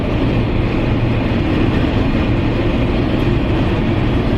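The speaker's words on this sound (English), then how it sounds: "It is a lot of wind noise from the roof rack that it's got on it" Steady, loud broadband roar of wind rushing over a full-length roof rack on a moving vehicle, a constant hurricane-like whoosh with low rumble and no breaks, heard alone without talk.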